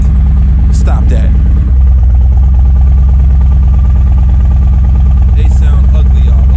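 Harley-Davidson Road Glide, a 2021 model, fitted with Khrome Werks exhaust pipes, rumbling loudly and steadily up close with a brief rev, while someone talks over it.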